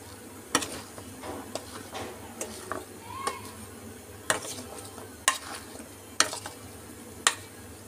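Potato fries tossed with spices, ajwain, asafoetida and vinegar in a bowl, giving soft wet rustling under a dozen or so sharp clicks and knocks of a utensil against the dish, fairly quiet and close.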